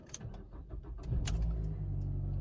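A 2010 Ford Fusion with 174,000 miles is started up close: a few clicks, then the engine cranks and catches, settling into a steady low idle.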